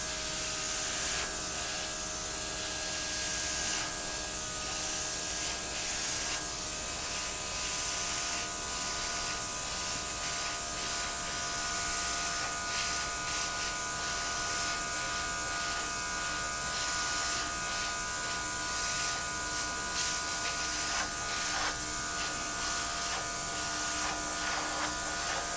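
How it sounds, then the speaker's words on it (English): An airbrush blows out small dabs of paint in an acrylic Dutch pour, giving a steady, close hiss of compressed air that runs throughout with slight fluctuations and no talking. "And blow it out with my airbrush."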